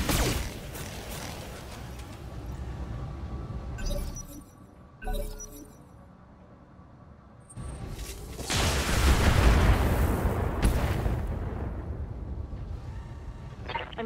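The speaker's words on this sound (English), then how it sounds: "Firing on target." Mech weapons fire in the BattleTech video game on the Mantharaka Badlands, a run of sharp blasts and crashing impacts with glassy shattering, a brief lull, then a long loud roaring barrage.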